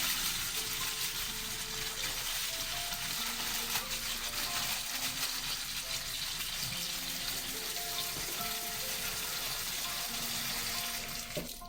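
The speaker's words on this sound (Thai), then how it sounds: "จากนั้นใส่น้ำลงไปค่ะ" Water poured into a pot of peanuts, a steady broad pouring rush that continues throughout with scattered light clinks and knocks, fairly close and with no voices.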